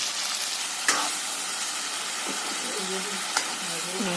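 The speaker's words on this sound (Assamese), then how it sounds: "ফ্ৰাই কৰিম এতিয়া এনেকৈ" Oil and pieces of Assamese-style pork curry sizzle and fry steadily in a pan, with a constant close hiss and a couple of sharp stirring clinks.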